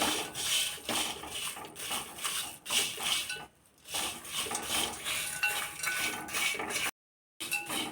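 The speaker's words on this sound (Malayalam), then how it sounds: "അതിന് ഞാൻ കൊഞ്ച് ഉരുളിയിലോട്ടിട്ട് വറുക്കാൻ പോവാം" Prawns being dry-roasted and stirred over a medium flame in a heavy uruli pan, with a spoon scraping and knocking the metal in steady, busy strokes. There is a short pause in the middle and no speech.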